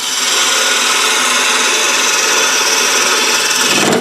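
A bowl gouge cuts a wooden spin top turning on a lathe, giving a loud, continuous scraping hiss close up that holds steady for several seconds before stopping abruptly.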